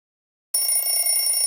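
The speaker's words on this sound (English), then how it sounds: "JoJo's alarm went off" An alarm clock starts ringing abruptly after silence and keeps going as a steady, bright, continuous bell-like ring, loud and close, with no talking.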